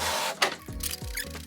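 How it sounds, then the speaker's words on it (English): A small photo printer printing photos, giving a few rhythmic mechanical feed clunks and whirring motor pulses close by, with no speech. "After adjusting all of the photos, I then printed them."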